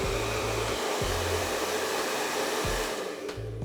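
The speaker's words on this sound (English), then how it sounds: "What you will need for this next step is your glaze and a hairdryer." A hair dryer on its cool, low setting blows with a steady, close whir over a cake's mirror glaze, its airflow wavering slightly as it is moved around.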